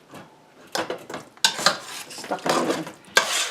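Shepherd's pie filling is stirred in a pan, with irregular scraping and clinking of a utensil against the metal and a soft sizzle underneath, plus a brief spoken remark.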